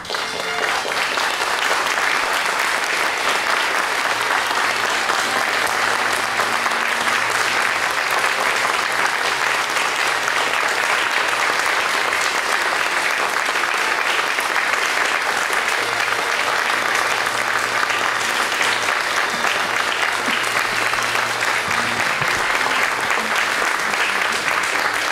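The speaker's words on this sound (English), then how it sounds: "Please rise and round of applause" Sustained applause fills a conference hall as the audience stands while the President and Rector leave, a steady dense wash of many hands clapping throughout with a faint low hum beneath.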